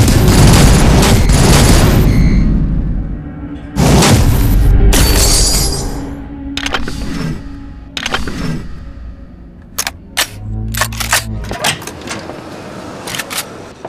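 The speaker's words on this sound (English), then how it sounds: "you hear that? Someone's shooting." Gunfire in the mobile zombie game Into the Dead 2 comes as a loud burst of rapid shots and booms, then scattered sharp single cracks that thin out and grow sparser toward the end, with no voices.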